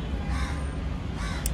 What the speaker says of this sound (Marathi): कावळ्यांचा आवाज येतोय